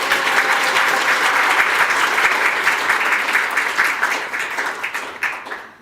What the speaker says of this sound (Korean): 격려와 응원의 박수 부탁드립니다